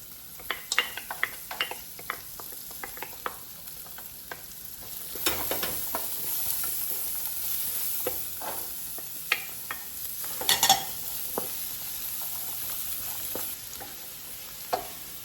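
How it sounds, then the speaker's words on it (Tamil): Vegetables fry in butter with a steady crackling sizzle, broken by frequent scraping and clattering stirs of a utensil against the pan, close and fairly loud with no talking. "எண்ணெயில் பொறிக்கையில் பட்டரில் பொறிக்க போகிறேன் இதுக்குள்ள முதல் மரக்கறியை போடுவோம்"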